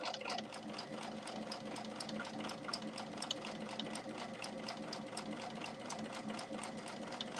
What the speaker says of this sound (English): I'm going to back stitch just a little, and I'm going to come on back around.